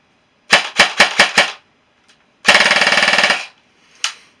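An airsoft gun fires five quick, sharp shots, then one dense automatic burst, then a single later pop. The shots are close and loud and nobody talks.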